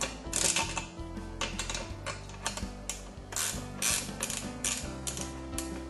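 A nut being snugged down onto a bolt on a satellite dish mount, giving metallic ratcheting clicks and scraping in a series of short bursts, close up with no talking.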